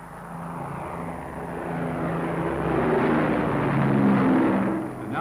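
An RAF Coastal Command Shackleton just after take-off from St Mawgan in Cornwall, its propeller engines making a steady, broad droning roar heard from inside the aircraft, swelling slightly then easing, with no talk.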